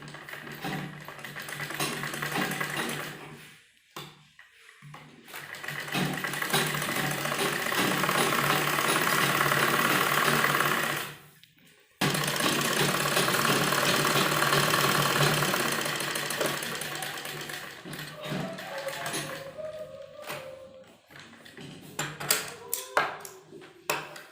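A sewing machine runs in long steady bursts while stitching the turned edge of a kurti strip, its mechanical whirr stopping briefly between runs and followed by lighter handling taps.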